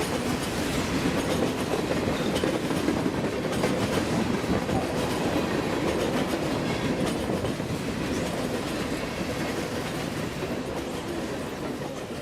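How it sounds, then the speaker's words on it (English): A meticulously detailed model train runs along a model railroad layout, giving a steady, dense rolling rumble with continuous clickety-clack from the wheels, sustained at an even level throughout with no voices. "This is an incredible and meticulously modeled train that John has done here on the layout"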